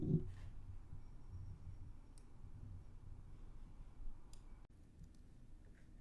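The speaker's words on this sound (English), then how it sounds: "you will want to click the Enter Now button" A computer mouse clicks the Enter Now button on a registration page, with a few soft, sparse clicks against a quiet background.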